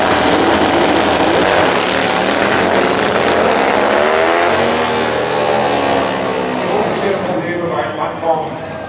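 A Super Twin Top Gas drag motorcycle with a 2.6-litre Harley engine roars loudly through a qualifying run at NitrOlympX 2013, its pitch sweeping upward as it accelerates away, under a commentator's voice.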